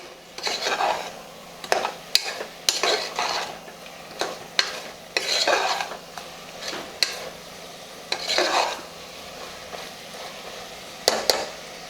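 Mutton curry masala sautéing in oil, with a spoon scraping and clinking against a metal pot in irregular strokes over a soft, low sizzle, close and moderately loud.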